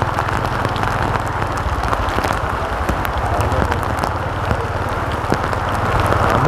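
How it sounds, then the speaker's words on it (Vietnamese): Steady rain falls in a muddy, rain-soaked alley under repair, a dense continuous patter close by that stays even and fairly loud throughout, with no talking over it. "Mưa trong hẻm nhìn thấy buồn lắm."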